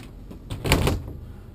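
Large double-door wardrobe cabinet in the bedroom of a 2006 Fleetwood Flair RV, giving one brief close clatter of the doors moving, heard alone without talk.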